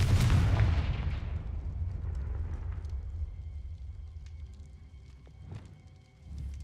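A Confringo blasting spell in Hogwarts Legacy detonates with a heavy, booming explosion that rolls off into a long rumbling decay, followed by a few faint crackles and a second low thud near the end.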